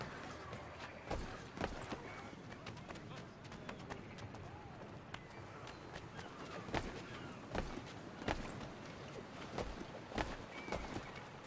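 Horse hooves clip-clopping in the Assassin's Creed III Remastered video game, irregular hoof thuds over a busy background of ambient noise and murmuring voices.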